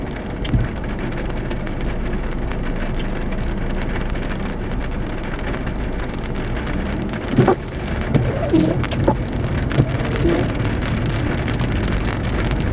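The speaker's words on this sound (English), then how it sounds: "It's getting ready to rain, so" Rain falls outdoors in a new housing development, a steady soft hiss throughout with a few louder patters and bird-like chirps partway through.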